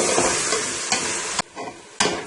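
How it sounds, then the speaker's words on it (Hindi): Keema and beans frying hard on a high flame, with a loud, dense sizzle broken by scraping stirs and short gaps, close up and with no voices. "अच्छी तरह भूनेंगे तेज आंच पर"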